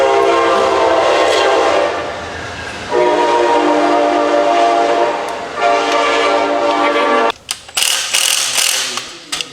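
A passing train sounds its horn in long, loud blasts that break off, return, then give way to clanking rail noise as the cars roll by close at hand.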